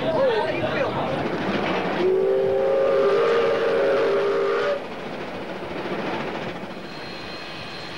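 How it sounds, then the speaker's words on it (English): Derwent Valley Railway locomotive Bridgewater hauls a passenger train with a continuous rolling rumble, and a long, steady whistle blast sounds over it midway before the train noise carries on alone. "Bridgewater, the Derwent Valley Railway's loco which has brought us this far, is not permitted any further."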